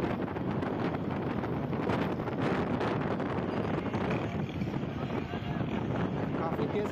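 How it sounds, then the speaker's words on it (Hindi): Strong wind at a seaside beach in Karachi buffets the microphone in a constant, loud, broadband roar that does not ease throughout. "काफ़ी तेज़ हवा चल रही है"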